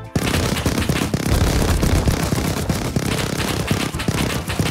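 Rapid continuous minigun fire in the survival game Rust, a dense stream of loud shots with no break for nearly five seconds, close and alone.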